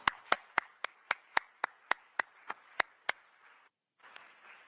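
A single person claps sharply about a dozen times in a steady, even rhythm, close and fairly quiet at a remembrance and reconciliation event, then falls briefly silent before faint room noise.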